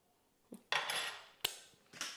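Two spoons clink against a dish while tinned pork luncheon meat is scooped and handled, giving a few sharp metallic taps and scrapes over about two seconds, close by.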